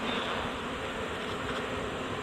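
A swarm of bees being caught into a hive box, their dense, steady buzzing filling the air close by without a break.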